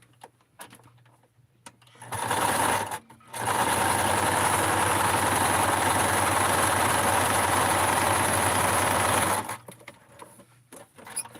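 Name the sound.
sewing machine stitching doll clothes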